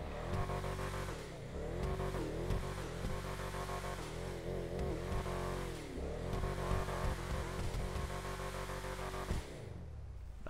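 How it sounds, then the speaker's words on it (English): Ubermacht Rebla GTS SUV engine in GTA Online revving steadily and loudly, with repeated rises and dips in pitch over a sustained low growl, no talk. "let's go ahead and rev it up here and do that sound test"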